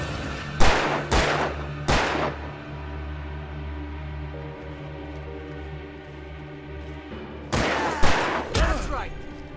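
Gunshots in the video game Alan Wake: loud, sharp bursts, with three shots in quick succession, then a pause filled by a low ambient hum, then another cluster of three reports.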